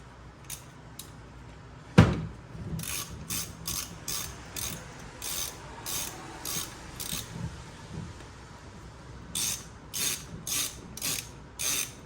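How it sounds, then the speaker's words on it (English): A ratchet snugging a 10 mm nut during a short shifter install on a 2022 Subaru WRX, heard as quick bursts of close, crisp clicking repeated through the clip after a single sharp knock. "Get our 10 mil nut back on. And let's snug that up."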